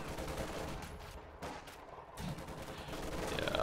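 Machine gun fire in the World War II strategy game Company of Heroes 2: dense, continuous gunfire and battle noise run steadily throughout, with a brief dip midway and no voices.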